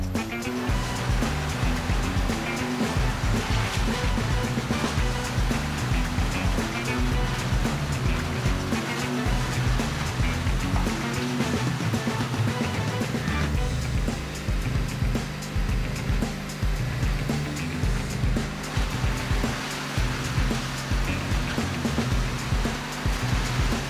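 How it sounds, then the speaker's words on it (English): A Morbark 1100 barrel grinder crushes large volumes of wood scrap, a dense, continuous roaring grind with heavy low rumble and churning crashes that never let up. "the Moorbark 1100 barrel grinder is capable of crushing large volumes of wood scrap with ease"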